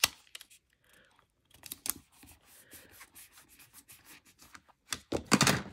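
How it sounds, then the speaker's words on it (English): Tape being pulled and pressed onto stitched book pages, heard as scattered soft rubs and crinkles, then a louder rush of tearing and smoothing near the end, close and without talk. "why don't I do a bit more taping, preemptive taping"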